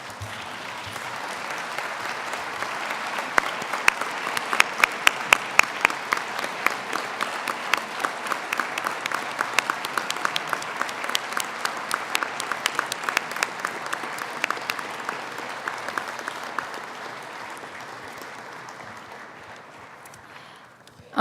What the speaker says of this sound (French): à vous tourner vers vos familles et amis et à les applaudir chaleureusement